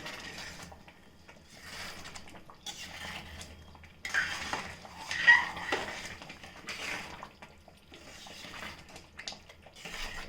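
A spoon scrapes and knocks inside a pot while chakra pongal with ghee is stirred, giving soft, irregular metallic clinks and thick stirring sounds at close range.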